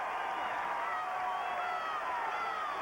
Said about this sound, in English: This crowd is up and cheering the Hoosiers on.